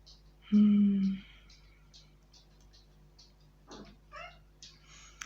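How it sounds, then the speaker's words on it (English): A cat meows once, loud and close, lasting about half a second, then faint rattling and soft indoor sounds follow, with a few quiet voice fragments. "I just stopped because my cat is meowing"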